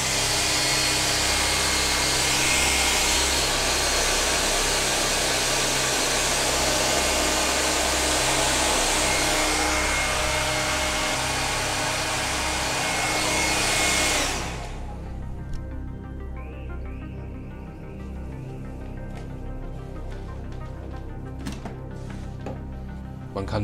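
An old hair dryer rated up to 1800 watts runs from a portable power station with a loud, steady roaring whoosh for about fourteen seconds, then cuts off, leaving a quiet room with faint clicks.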